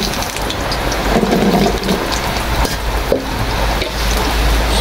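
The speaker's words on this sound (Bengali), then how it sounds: "তেল গরম হয়ে গেছে, আলু দিয়ে দেব।" Potato pieces sizzle and crackle in hot oil in a pan, a dense, steady frying hiss close by with occasional sharper spits and pops.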